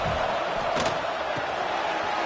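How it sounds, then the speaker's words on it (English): Home crowd noise in a Madden football video game, a dense continuous roar of stadium fans at steady volume with a few faint swells, running throughout as a broad wash of sound. "this home crowd is fired up and ready to make a difference today"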